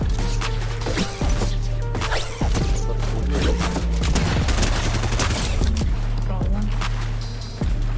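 Rapid gunfire and shotgun blasts from a Fortnite match crackle loudly and almost continuously, with bursts and crashes packed together over game audio and players' voices.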